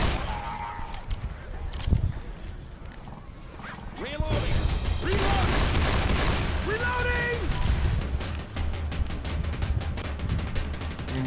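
Gunfire in the zombie shooter game Left 4 Dead 2: sharp bursts of shots and booms amid dense game noise, with players' voices talking over the action.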